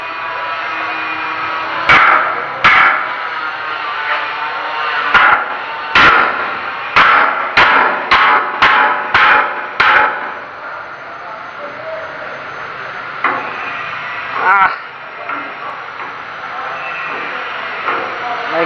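Sharp metal hammer strikes at a construction site where carpenters work steel, a quick run of about eight close, loud blows followed by a few scattered hits over a steady background hiss, with voices talking at times.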